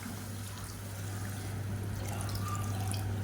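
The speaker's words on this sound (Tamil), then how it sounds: "நான் ஒன்றரை டம்ளர் தண்ணி எடுத்து நல்லா சூடு பண்ணியிருக்கேன் அந்த தண்ணியை சேர்த்துக்கலாம்" Hot water poured onto soaked jeera samba rice in a pot for biryani, a soft steady liquid pour with faint trickling over a low hum, quiet and close.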